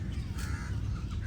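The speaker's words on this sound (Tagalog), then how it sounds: "Daming uwak dito." Several crows caw outdoors, their harsh calls rising over a dense, rumbling background. The calls sound fairly close and keep coming through the short stretch, with no talking.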